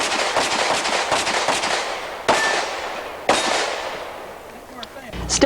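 Machine guns firing at a machine gun shoot: dense, loud crackling bursts of rapid fire with two sharp reports cutting through, each trailing off into an echoing decay.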